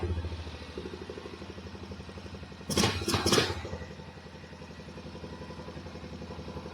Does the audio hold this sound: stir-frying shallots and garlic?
no